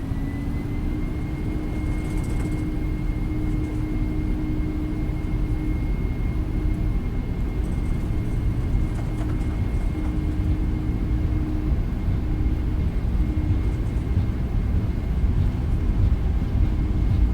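Flight Factor 767-400 engines spooling at takeoff power in X-Plane 11, a loud, steady jet roar with a constant whine, holding evenly throughout with no talk.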